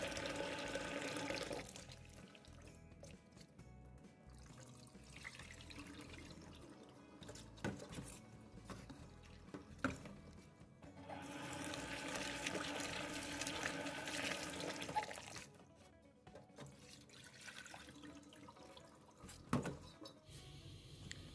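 Enoki mushrooms are rinsed gently under running tap water in a home kitchen, a steady close splashing and trickling stream with brief surges and small drips throughout.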